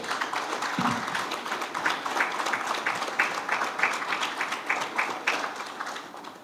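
Light applause from an audience at a sponsorship announcement event, steady scattered clapping throughout with moderate loudness and no voices.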